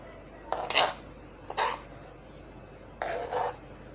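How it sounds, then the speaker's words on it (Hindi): Knife cutting tomatoes on a board while preparing mutton balti, giving three short separate chopping knocks spaced about a second apart, close and moderately loud with no talking. "अब इधर हम काटेंगे टमाटर"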